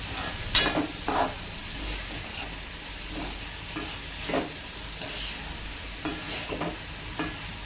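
Chili and potato frying together in a pan, a steady sizzle with periodic scraping stirs and a few utensil clinks, close and alone.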